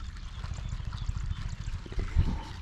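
Water pumped into a rice field channel runs steadily close by, a continuous low churning flow with a few brief splashy bumps near the end.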